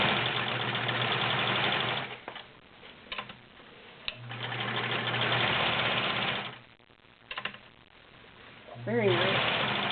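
An older Kenmore 1516 sewing machine with cams stitching through five layers of denim, running in close, loud bursts of fast mechanical whirring with short pauses between runs, and a brief voice near the end.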